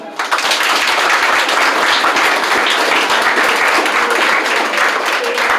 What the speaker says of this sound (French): je vous invite à vous applaudir chaudement.